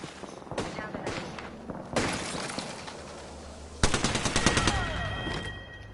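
Rapid automatic gunfire from a PlayStation 4 shooter game crackles in several loud bursts, with sharp shots and clattering effects, and a voice talks over the action.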